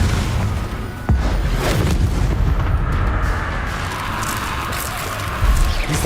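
Confringo blasting spell exploding in Hogwarts Legacy: deep booming bursts, the strongest near the start and another toward the end, within a loud, dense wash of combat noise.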